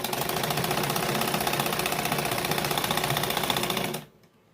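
An electric sewing machine runs steadily, stitching a zip onto a kurti. Its fast, even mechanical rattle is close and loud for about four seconds, then stops abruptly, leaving near silence.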